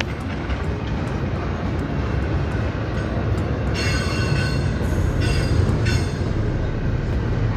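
A long freight train rolls steadily past on a curve, a continuous loud rumble of wheels and cars with high metallic wheel squeals rising in several stretches.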